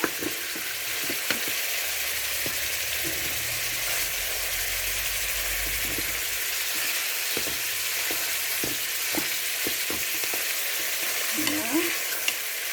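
Veal paupiettes browning in a pan, sizzling steadily while being turned now and then with soft scrapes and taps of a utensil, close and fairly loud throughout.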